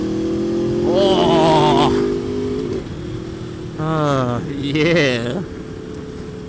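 A new motorbike's engine idles steadily and then revs up as it sets off, with excited voices calling out over it.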